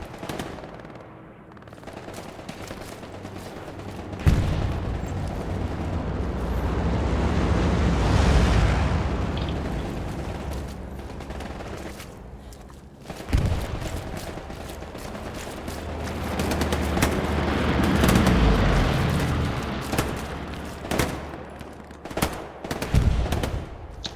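Bursts of gunfire crackle in rapid volleys during a late-night shooting session, rising and fading in waves with sharp loud cracks near the end, no talking.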